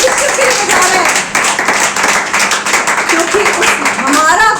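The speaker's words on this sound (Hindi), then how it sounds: "हाँ बजाइए ताली।" A church congregation claps for God during a Hindi-language worship service, steady dense applause filling the room while a preacher's voice carries over it.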